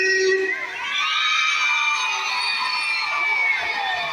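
A crowd of schoolchildren at a school flag ceremony shouts back together in a loud, sustained roar, voices rising and falling across the yard for several seconds.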